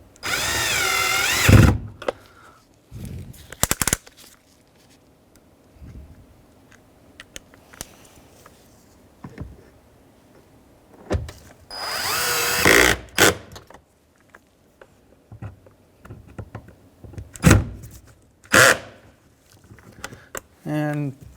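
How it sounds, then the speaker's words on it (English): A power drill drives bolts and screws back into the rear door of a 2007-2013 Acura MDX during a power window regulator replacement, firing in short loud whirring bursts separated by quieter handling noises, with a person talking in between. "So now we can reinstall our bolts and screws."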